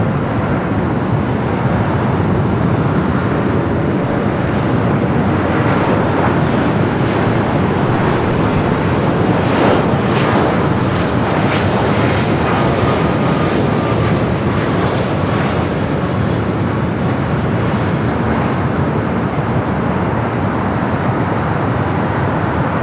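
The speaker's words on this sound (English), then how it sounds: "another Delta 767 at 300 ER. This one coming in from Honolulu" A Delta Boeing 767-300ER arriving at LAX from Honolulu makes a loud, steady jet roar that builds and then holds as the aircraft passes close by.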